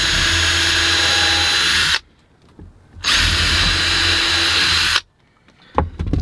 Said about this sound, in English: we're gonna pre-drill our little holes on the side